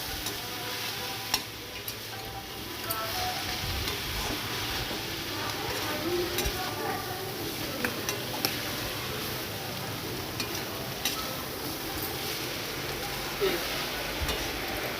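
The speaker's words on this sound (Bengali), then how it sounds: "জিরে বাটা দিয়ে তারপর আবার ভালো করে কষিয়ে নেব" Spices with salt and cumin paste are stir-fried in a pan for a Bengali dish. A steady sizzle runs throughout, with scraping stirs and small taps, close but fairly soft.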